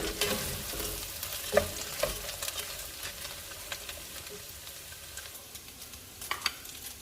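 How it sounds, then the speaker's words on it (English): Ground beef, onions and conchas pasta brown together in a pan for sopita de conchas: a continuous low sizzle with repeated scraping stirs and a few sharp clicks of the utensil. "I'm going to just keep cooking the beef, cooking and sauteing the onions, and browning the conchas"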